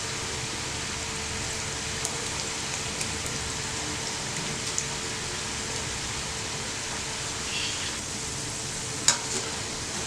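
Cabbage pakoda fritters frying in hot oil give a continuous, even sizzle with fine crackling, steady and close, broken by a few small pops and one sharper clink near the end.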